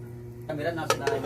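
A lid set down onto a cooking pot of fish stew with vegetables, giving a couple of close metallic clinks over a low background hum.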